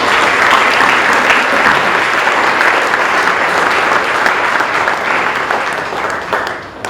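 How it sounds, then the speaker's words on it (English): Sustained audience applause at a school presentation day ceremony, a steady broadband wash of many hands clapping for the full length, loud and close, easing slightly near the end. "I think that deserves another round of applause."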